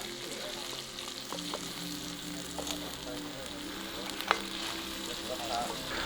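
Spicy catfish stir-frying with kaffir lime leaves and peppercorns in a pan, a steady loud sizzle with scattered scraping and stirring clicks throughout.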